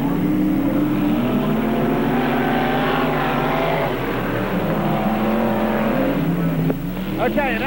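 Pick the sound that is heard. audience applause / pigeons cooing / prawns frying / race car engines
race car engines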